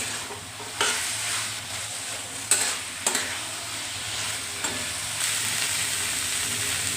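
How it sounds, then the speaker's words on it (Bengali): Fried potato pieces sautéed with masala in a pan, a continuous sizzle broken by several scraping stirs of a spatula, close and fairly loud, no speech. "আলুটা দিয়েও মশলার সাথে ভালো করে কষিয়ে নেব।"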